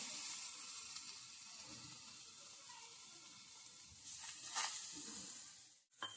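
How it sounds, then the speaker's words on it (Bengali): Fish pieces sizzle in a hot pan with almost no oil, a steady broadband hiss that swells briefly before cutting off near the end. "ফ্রাই প্যানে আমি মাছ দিয়ে দেব একটা একটা করে।"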